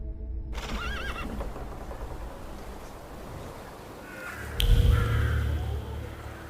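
A horse in The Thaumaturge video game gives a loud, close whinny partway through. Hoof clip-clops and a low rumble of ambience play around it.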